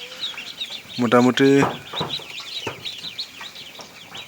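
A brooder full of young chicks chirps continuously in a dense, high peeping chorus close by, while a person briefly speaks over it.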